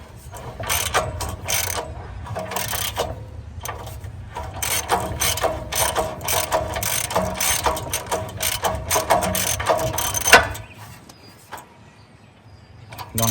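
A ratchet tightens the spark plug on a CAT RP7500 generator, giving fast, steady clicking with a few pauses for about ten seconds before it stops, close up.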